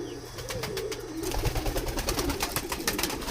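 Pigeons coo at a nest holding four eggs, soft repeated throaty calls close by over a steady background hiss, with no talking.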